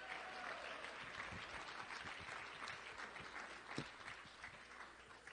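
Applause from an audience for Joe Biden sounds faint and distant, a steady wash of many hands clapping with crowd noise and no clear individual claps standing out.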